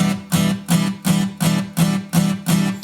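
Guitar chords strummed staccato in short, choked bursts, seven or eight evenly spaced strums each cut off quickly, muted between hits, played close with no voices.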